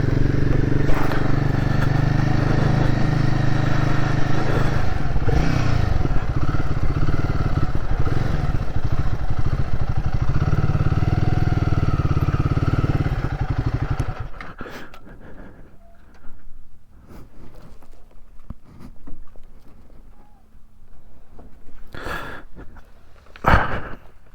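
A Royal Enfield Guerrilla 450 motorcycle rides along with a steady engine and wind roar, which cuts off midway and leaves quieter clatter and small sounds.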